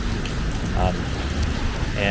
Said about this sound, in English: it's kind of raining / snowing pretty heavily